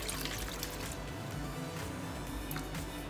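Milk custard made with powdered milk for spiced French toast is poured steadily into a bowl. It gives a continuous close, splashy liquid rush for a few seconds with no talking.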